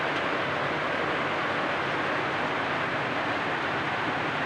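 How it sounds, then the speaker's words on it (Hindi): Steady rain falls without pause, a dense, even hiss heard up close while pork cooks at home in Mizo style, with no voices over it. "और बारिश भी हो रही है दोस्तों।"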